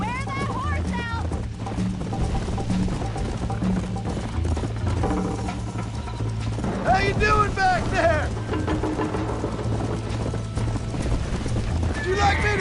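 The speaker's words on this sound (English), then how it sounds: "You're gonna wear that horse out." Horse hooves galloping in the Red Dead Redemption video game, a steady clip-clop rhythm running throughout at moderate loudness beneath game music and characters talking.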